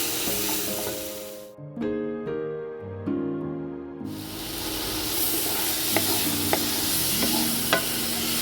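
Vegetables for pasta sizzle and fry in a pan with tomato sauce while a utensil stirs them, scraping with a few sharp clinks against the metal.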